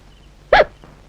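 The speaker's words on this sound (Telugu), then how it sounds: "ఏంటి ఎక్కిళ్ళు వస్తున్నాయి?" A single sharp hiccup, loud and close, followed by a much fainter second catch, with no talking.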